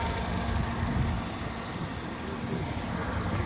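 A Toyota Camry engine idles at a used car market, a steady, fairly loud rumble and hum that holds without a break throughout.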